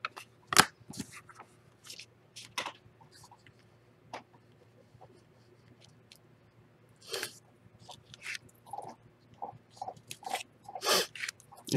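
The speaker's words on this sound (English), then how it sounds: "If you hear the crunching in the background, that's my new dog." A husky-beagle mix dog crunches as it chews, giving scattered bursts of crisp bites with quiet gaps between them, close by and fairly soft, under a low steady background hum.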